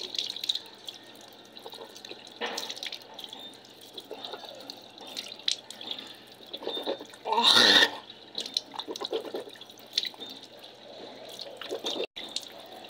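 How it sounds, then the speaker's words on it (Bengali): Water running at a bathroom sink while someone rinses their mouth after brushing teeth in the morning, with a steady splashing flow and a louder burst of water about two thirds of the way through. "এখন কুলি করব, চলো।"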